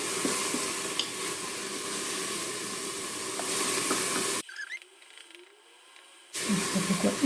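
Bacon matchsticks fry in oil inside a Cookeo multicooker, giving a steady close sizzle and hiss that drops away for about two seconds before returning.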